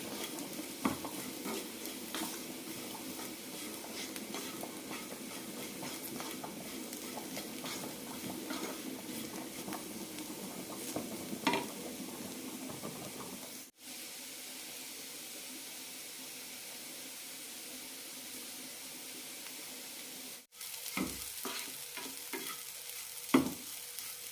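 A carrot fry being stirred and mixed in a pan, with a steady soft sizzle and occasional scraping of the spoon, a brief drop near the middle and sharper clinks toward the end.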